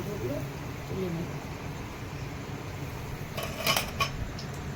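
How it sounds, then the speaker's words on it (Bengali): Fried palm malpua lifted one by one from a pan of hot oil, soft frying sizzle underneath with a few light metallic clinks of utensil against pan near the end. "আমি এক এক করে মালপোগুলো তুলে নেব।"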